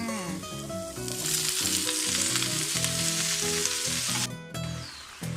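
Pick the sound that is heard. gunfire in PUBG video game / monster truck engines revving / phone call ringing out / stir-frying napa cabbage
stir-frying napa cabbage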